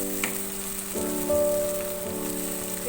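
Chopped tomatoes land in a pan of frying onions for a chicken masala roast, giving a steady soft sizzle and crackle at close range over a faint background hum, with no one talking.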